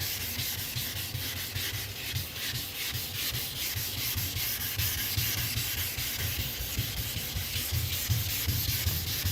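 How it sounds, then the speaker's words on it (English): Steady, continuous wet sanding of a car's clear coat with a sanding block, a rough rhythmic rubbing that keeps going without pause, close up and fairly loud, with no talking. "just make sure you got a block on this, because if you spend all your time block sanding"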